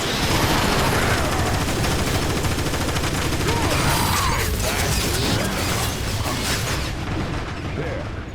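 Dense, sustained weapon fire in the Transformers: War for Cybertron video game, a continuous barrage of rapid shots and mechanical clatter at full loudness, tapering slightly near the end with faint voices mixed in.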